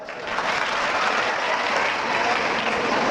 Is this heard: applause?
yes